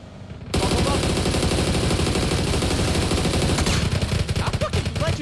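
Sustained automatic gunfire from a video game roars loudly and nearly unbroken after a brief quieter opening, dense rapid shots dominating throughout.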